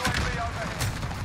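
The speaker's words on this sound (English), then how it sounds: "I'm literally shooting as soon as I spawn and reloading so I can get my reload kills" Akimbo Dark Galaxy carbide pistols firing in Modern Warfare, a dense burst of rapid overlapping gunshots across a short moment, with game noise running underneath.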